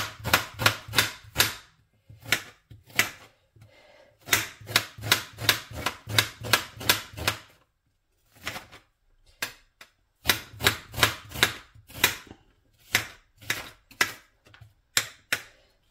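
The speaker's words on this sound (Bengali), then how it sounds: "তেলটা গরম হতে আমি পেঁয়াজটা কেটে নিই" A knife chops an onion on a board in bursts of quick, sharp taps, each run separated by short pauses, close and crisp.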